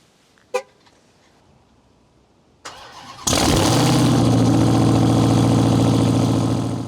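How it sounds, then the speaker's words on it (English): A completely stock Ram TRX pickup truck cold-starts with a brief starter whir, then its engine catches and settles into a loud, steady, deep idle rumble; a faint click and thud come first. "Cold starter."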